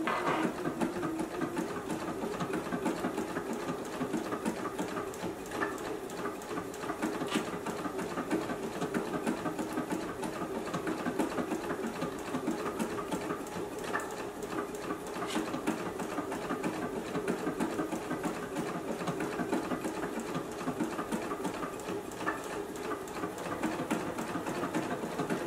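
A JUKI sewing machine runs steadily, stitching a beverage coaster along a marked line; the even mechanical whir and needle clatter hold at a constant level, close by, with no talk.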